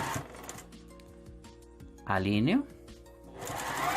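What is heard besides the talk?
sewing machine stitching patchwork quilt block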